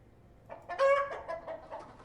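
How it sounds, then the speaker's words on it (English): Chickens cluck in short bursts inside a video game, a few close squawks and bleating clucks over a quiet background. "Chickens."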